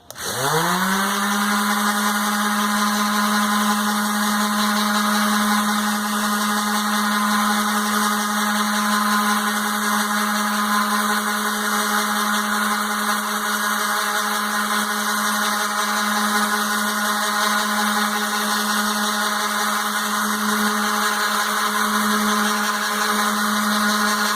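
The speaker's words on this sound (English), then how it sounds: "let me sand a little bit more, and that way you can see how this goes" An electric hand sander whirs at a constant, loud pitch as it works over a wooden princess castle bed, spinning up quickly at the start and then holding a steady, uninterrupted drone throughout with no voices.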